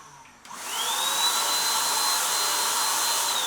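A Dextra cordless paint sprayer kicks on and spraying paint produces a steady, airy motor whir with a high whine, loud and continuous after starting.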